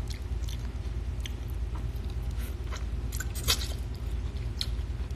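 Close, steady chewing and crunching of lobster during a mukbang, with wet bites and squishy mastication continuing without pause and no talking.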